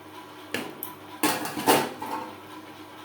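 Fried prawns are stirred into gravy in a pan for chingrir malaikari, with a few sharp clanks and scrapes of a utensil against the metal pan, sporadic and close.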